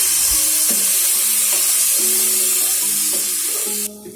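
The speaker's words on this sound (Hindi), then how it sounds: "और अब इसमें 1 प्याली दूध डालेंगे।" Milk hits hot halwa in a pan, raising a loud, close sizzle and hiss with stirring scrapes and bubbling tones, then easing off at the end.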